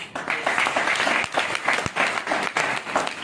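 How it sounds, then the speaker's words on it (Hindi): Audience at a multi-level marketing event clapping steadily, a dense, continuous spatter of hand claps with a few sharper individual claps standing out, fairly loud and close, with no talk over it. "लोग तालियां ऐसे ठोक रहे हैं जैसे लगता है इन भाई साहब ने सबको एक एक चॉकलेट बांट दिया है।"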